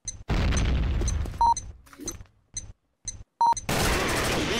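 Bomb going off in the shooter Combat Arms, loud booming blasts broken by short gaps and electronic beeps, ending in a long rumbling roar.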